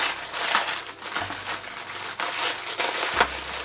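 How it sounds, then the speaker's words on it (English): Sticker seal on a Glossy Box beauty subscription package crackles and crinkles steadily as it is peeled open, a close, continuous papery rustle with small tearing bursts and no voice. "now we're just going to open the little sticker"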